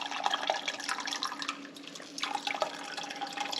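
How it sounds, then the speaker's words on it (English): Bottled water is poured over a grain bag while brewing beer, a continuous close splashing and trickling of liquid that thins briefly midway before running again. "grab one of your bottles of water and pour it over the bag"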